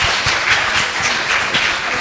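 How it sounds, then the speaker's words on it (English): Audience applause for the anchors of a yoga festival program, a dense steady wash of many hands clapping at close range, filling the whole moment without pause. "Give them a round of applause,"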